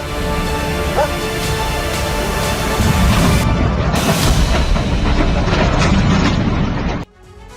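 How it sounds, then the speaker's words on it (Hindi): A loud, sustained roaring blast of a rocket explosion rumbles continuously, swelling and then cutting off abruptly near the end. "वेस्ट बैंक के रामल्ला में भी रॉकेट से धमाका हुआ।"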